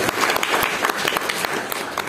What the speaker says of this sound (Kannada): ಅದಕ್ಕಾದ ಒಂದು ಜೋರಾದ ಚಪ್ಪಾಳೆ.